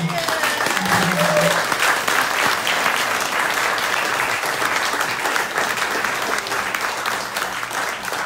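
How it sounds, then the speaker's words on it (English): Sustained audience applause at a birthday celebration during a satsang gathering in Santa Monica, honoring a mother's 75th birthday; steady clapping fills the whole stretch, loud and close, with a few voices faintly underneath. "let us give a big round of applause for her"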